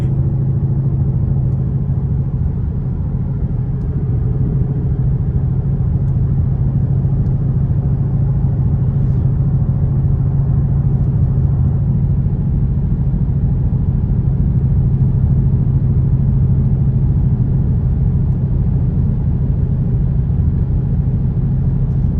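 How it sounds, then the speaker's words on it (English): A Ford Mustang GT500 engine and exhaust rumble steadily from inside the cabin on a mountain road, a deep continuous drone with no talking. "listen to this car."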